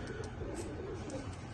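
A pair of Pakistani Sialkoti batera pigeons coos softly, low and faint, with a few brief chirps over a quiet background.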